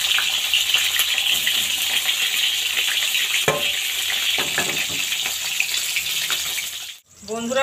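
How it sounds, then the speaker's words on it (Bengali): Pointed gourd (potol) frying in plenty of hot mustard oil in a kadai, a loud, dense steady sizzle with occasional spatter pops and stirring clinks, dropping away briefly near the end. "এবার আমি পটলগুলো ভেজে নেব"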